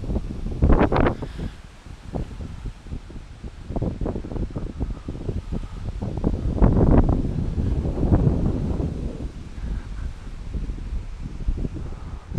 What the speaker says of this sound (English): Listen to that noise. She howls, doesn't she, this storm?